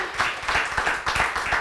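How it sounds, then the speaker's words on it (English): A small audience gives a round of applause for a guest, a brief patter of clapping with distinct individual hand claps and a few loud close ones. "Round of applause for Kathy."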